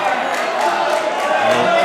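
Crowd at an All-Ireland softball handball men's doubles final booing and jeering a referee's call, a steady dense wall of disapproving voices throughout, fairly loud and continuous.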